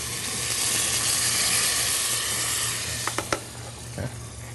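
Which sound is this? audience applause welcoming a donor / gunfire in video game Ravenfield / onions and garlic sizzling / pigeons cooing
onions and garlic sizzling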